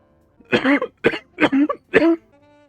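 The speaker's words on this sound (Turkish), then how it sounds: "Bu arada az önce öksürük krizine girdim." A coughing fit of four harsh, close coughs in quick succession, each a short rough burst with brief pauses between.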